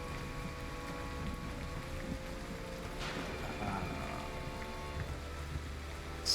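Rain in the video game Wartales, a steady, fairly faint wash of falling water with a brief brighter splash midway, continuous without voices.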